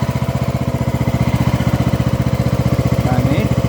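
A Craftsman Gold DLS3500 riding lawn mower engine idles low and steady with a close, even, rapid chugging pulse and no talking.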